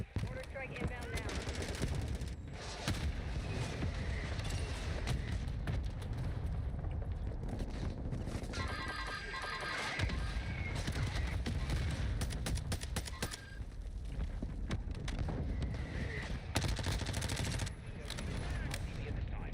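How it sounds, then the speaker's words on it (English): Call of Duty mortar strike with explosions and gunfire: dense rolling blasts and rapid shots fill the whole stretch, loud and continuous, with game voices partly heard underneath. "Mortar strike inbound now."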